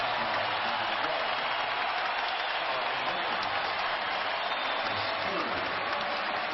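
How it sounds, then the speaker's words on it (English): A basketball arena crowd at an Ohio State versus Michigan game cheers and applauds in a steady, dense wash of clapping and roar that holds evenly throughout, heard from a distance. "Listen to this crowd."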